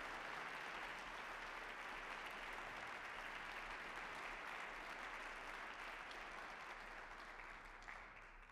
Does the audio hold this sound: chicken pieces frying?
no